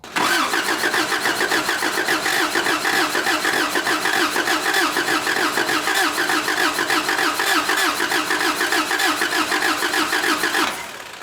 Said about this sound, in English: I am going to crank it, and if all works well, fuel should shoot out of here.